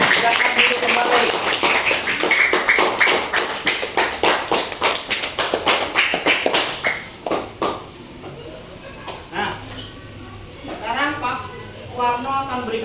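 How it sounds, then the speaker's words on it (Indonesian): A classroom of students claps and applauds for a classmate after her presentation, a dense burst of many hands lasting several seconds before fading into scattered claps, shuffling and chatter. "Tepuk tangan buat aplaus."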